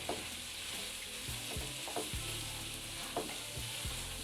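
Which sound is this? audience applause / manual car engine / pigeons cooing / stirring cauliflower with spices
stirring cauliflower with spices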